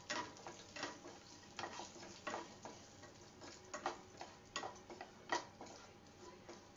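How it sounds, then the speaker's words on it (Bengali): Garam masala and cashews frying in a little oil, a quiet sizzle broken by repeated stirring and scraping strokes in an irregular rhythm, close and soft with no talking. "তো আমি গরম মশলাটা দিয়ে ভেজে নেব হালকা তেলে"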